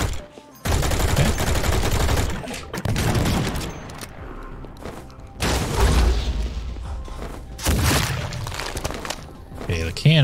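Heavy weapons fire in the first-person shooter Project Warlock 2, with cannon and rocket launcher blasts and explosions in loud dense bursts separated by short pauses, close and booming, with talking over the gameplay.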